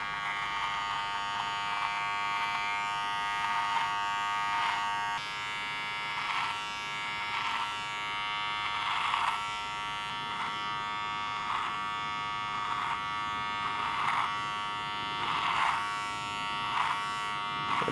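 An electric beard trimmer hums steadily while cutting length from a thick curly beard, a close, continuous buzz whose pitch and strain shift rhythmically as the blades pass through hair.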